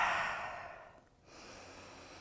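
A slow, deep breath in and out during a yoga goddess pose, soft and close, a breathy exhale fading to a pause before a quieter breath follows.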